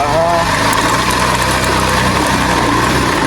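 A motorbike engine labouring on a road, a steady loud rough drone with wind-like rush throughout, while someone talks over it.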